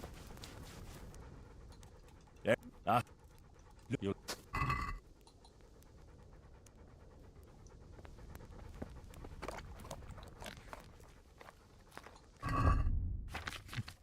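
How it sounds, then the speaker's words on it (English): A dog pants in the medieval game Kingdom Come: Deliverance with soft, quick breathing under a quiet ambient bed, broken by a few thumps, clinks and footsteps, while a person speaks briefly. "Dog."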